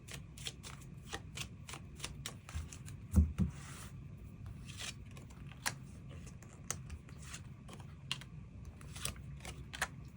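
Tarot cards are shuffled and drawn: steady, rapid papery riffling and crisp flicks continue throughout at close range, punctuated by a sharper tap or thump midway, with no talking.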